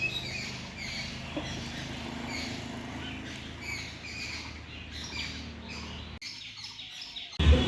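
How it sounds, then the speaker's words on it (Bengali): Small birds chirp and twitter steadily at a railway station in the early morning, a busy, fairly distant chorus of high calls with faint patter beneath and no talk. "বাড়িতে আসলে এরকম পাখির আওয়াজ শোনা যায় কিচির মিচির"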